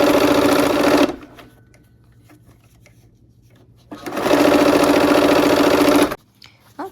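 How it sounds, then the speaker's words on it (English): A sewing machine stitches quilt block pieces assembly-line style in two loud, steady bursts, the first about one second and the second about two seconds, separated by a quiet pause with faint low hum. "we're gonna just go ahead and do some assembly line sewing here"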